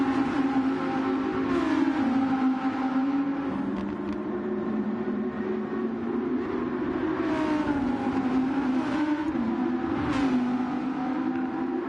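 Race cars climb a hill during an amateur league race, engines droning loudly and steadily with rising and falling revs as several cars pass, no voices.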